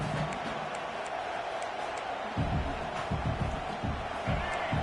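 Stadium crowd in a football video game roaring steadily throughout, loud and continuous, with heavier low rumble and thumping joining halfway through.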